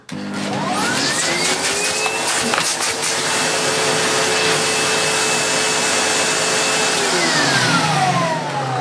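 A Sebo Automatic X4 Boost upright vacuum cleaner, 1100 watts, runs close and loud with a steady whine that rises in pitch near the start, holds level, then drops slightly near the end, alone without talk.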